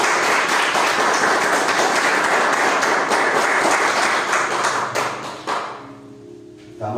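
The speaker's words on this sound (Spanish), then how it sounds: "Pudiste aplaudir." A church congregation applauds during an anniversary Sunday service, a loud, dense wash of clapping that carries steadily for about five seconds before fading into scattered claps and quiet room tone.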